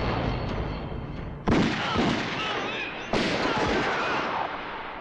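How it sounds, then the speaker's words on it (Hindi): Two sharp, loud gunshots about a second and a half apart in a Bollywood movie scene from Dil Jale, each followed by a rumbling tail, over a busy noisy background. "तुमने हम पर गोलियां चलाई"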